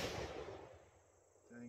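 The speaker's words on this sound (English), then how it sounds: "Gonna shoot the red paint." A single gunshot fired at a red paint target, a sharp loud crack at the start that decays quickly into a fading outdoor tail.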